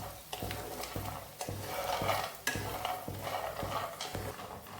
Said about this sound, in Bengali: প্রথমে এই বড়িগুলোকে এটা ভেজে নিতে হবে